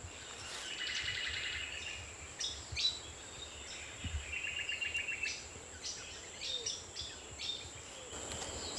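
Small birds sing on Yandé island in New Caledonia, with repeated chirps and short trills at moderate distance over a faint steady insect hum.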